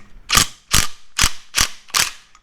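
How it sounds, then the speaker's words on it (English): An impact wrench breaks loose a 19 mm headlight nut on a motorcycle fairing, hammering in five short, loud, evenly spaced bursts close by. "an impact works best to break this nut loose and not spin this"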